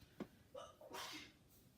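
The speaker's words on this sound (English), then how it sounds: "Sister just sneezed." A sister sneezes once at moderate distance indoors, a short sharp burst with a brief intake before it, heard alone against a quiet room.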